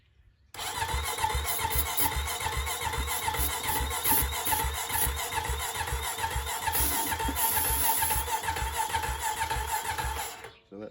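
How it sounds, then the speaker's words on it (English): A 2013 Honda Rancher 420 ATV engine cranks repeatedly without catching, a fast rhythmic churning of the starter lasting about ten seconds, close and loud, cut off abruptly at the end. "So let's turn the key on, and while she's a cranking,"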